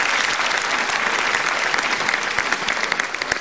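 An audience at an Indonesian stand-up comedy show breaks into loud, dense applause that stays steady for several seconds, with scattered louder claps standing out near the end.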